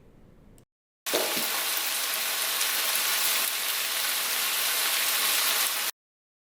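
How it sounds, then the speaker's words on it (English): Spaghetti squash and tomatoes stir-frying in a pan make a loud, steady sizzle with a rain-like hiss that starts abruptly after a short gap and holds evenly for about five seconds, with no talking. "Stir and fry all the ingredients together."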